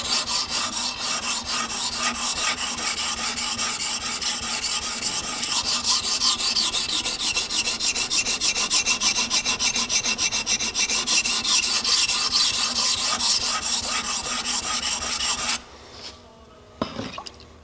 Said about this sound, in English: we'll keep on going now with the 600 grit and get that edge nice